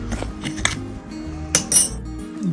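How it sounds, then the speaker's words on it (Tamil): Masala being mixed for a hotel-style rava fish fry of Indian mackerel, with a few close clinks and scrapes of a spoon against a bowl over a soft tonal background, with no talk. "நல்லா இப்படி தான் மெதுவாக தான் மிக்ஸ் பண்ணணும், இல்லைன்னா நல்லா வராது."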